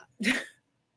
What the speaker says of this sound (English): And every time I sneeze.